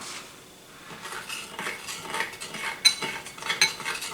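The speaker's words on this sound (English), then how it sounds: "you mix the different elements together depending on how you like them" A spoon stirring and clinking against a bowl while homemade BBQ sauce ingredients are mixed by hand, with repeated light scraping and a few sharp metallic taps, close and moderately loud, no talk.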